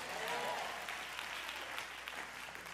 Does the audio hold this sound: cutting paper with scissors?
no